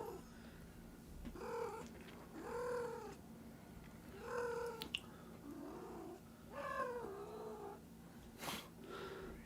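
The fiance's pet cat near the microphone, giving a string of drawn-out meows and chirping calls over a low continuous purr, fairly faint and close, with several separate vocalizations spaced a second or two apart.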